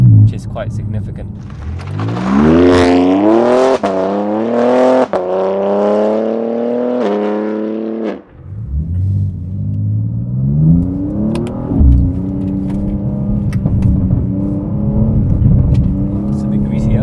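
A BMW G87 M2 fitted with an Eisenmann Race full exhaust and carbon tips revs loudly, its engine note climbing in rising sweeps before cutting off, then picking up again with a lower, rougher drone under a voice.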